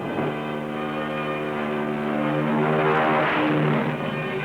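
Torpedo bomber engines roar steadily as the aircraft take off from a carrier deck during the Battle of Midway in 1942, a loud, sustained propeller drone with a slight swell near the end.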